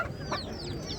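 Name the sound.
chickens clucking at a poultry market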